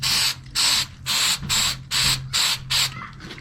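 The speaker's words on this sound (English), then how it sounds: "Now let's spray some of this sealant on here." Rubberized sealant sprays from an aerosol can onto the tailgate hinge area of a 2001 Chevy Silverado 2500HD, seven short, even hissing bursts in a steady rhythm, close and moderately loud with a faint hum underneath.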